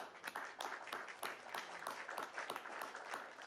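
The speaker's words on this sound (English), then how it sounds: "give yourselves, the teachers, staff, and administrators a big round of applause" Graduation audience at Fargo North in North Dakota claps for teachers, staff and administrators: dense, steady applause with individual sharp claps throughout, moderately distant and continuous.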